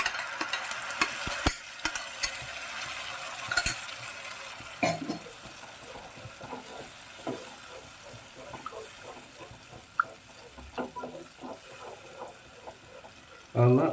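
Tomato and cashew paste frying in a pan for kadai chicken, with a soft steady sizzle and scattered stirring scrapes and clinks throughout, moderately quiet and without speech.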